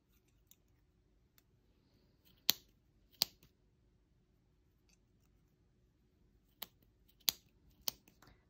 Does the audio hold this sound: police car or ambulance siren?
no